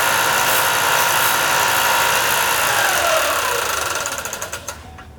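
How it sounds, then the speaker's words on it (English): A disc sander runs at a loud, steady whine while a wooden edge is touched against it, then the motor spins down and fades over the last second or so. "I'm going to go over to my disc sander, and I'm going to just touch it."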